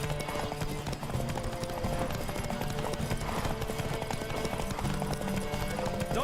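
Rapid hoofbeats of a galloping horse in the video game The Witcher 3: Wild Hunt clatter continuously in a galloping rhythm, fairly close, over a busy background with no voices.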